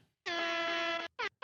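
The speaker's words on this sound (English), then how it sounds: "You don't start with your air horns." A loud, sustained air horn blast lasting nearly a second, rich with stacked harmonic tones, followed by a second shorter blast, both up close and alone.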